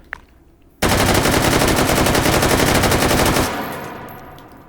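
An AK rifle in Hot Dogs, Horseshoes and Hand Grenades fires a loud, rapid full-auto burst of about two and a half seconds, beginning after a small click and ending in a fading echo.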